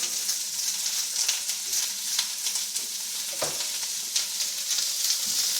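Onions sizzle in olive oil seasoned with salt and pepper for French onion soup, a steady close crackle with repeated soft scrapes and knocks as they are stirred around the pan.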